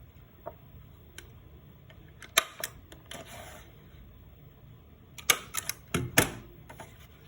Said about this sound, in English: I am going to staple these edges.